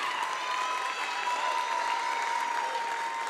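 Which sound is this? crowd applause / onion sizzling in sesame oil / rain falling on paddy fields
crowd applause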